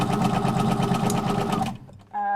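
A quilting sewing machine, run by foot pedal, stitches in a fast steady mechanical rattle for under two seconds, then stops abruptly, followed by a short pause and a brief hum.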